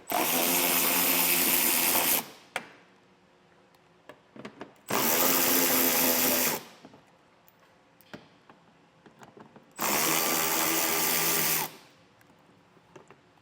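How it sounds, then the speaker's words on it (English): Power tool loosening 10mm bolts from a large plastic underbody panel on a 2024 Toyota Highlander, heard as three loud whirring bursts of about two seconds each, with quiet gaps and small clicks and clatters between them. "We're removing this large plastic panel on the driver's side. There are 3 10mm bolts we'll start with."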